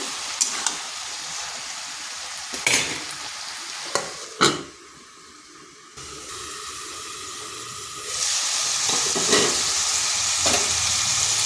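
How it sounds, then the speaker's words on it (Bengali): Bottle gourd fries with salt in a pan: a close sizzle broken by sharp scraping stirs, a quieter lull midway, then a louder, fuller sizzle toward the end. "লবণ দিয়ে আর কিছুক্ষণ ভেজে নিচ্ছি।"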